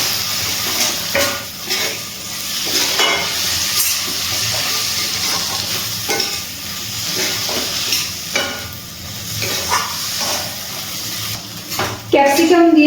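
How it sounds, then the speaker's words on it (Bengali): Capsicum stirred and fried with spices in a pan over a medium gas flame, with a steady sizzle broken by repeated scraping spatula strokes against the metal, close and fairly loud. "ক্যাপসিকাম দিয়ে মশলার সাথে একটু নাড়াচাড়া করে নিচ্ছি।"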